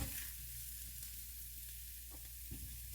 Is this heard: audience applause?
no